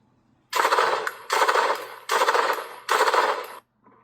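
Four loud, broad bursts of gunfire from a test-fired gun, each lasting roughly half a second with short gaps between them, close and harsh, with no talking.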